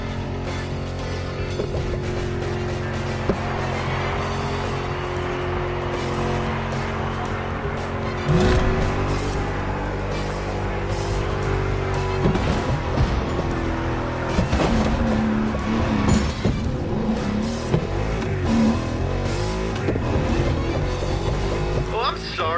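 A truck driven with no brakes in The Crew Motorfest roars along steadily, with skids, scrapes and impact noises scattered through it. A player talks over the engine nearly all the way.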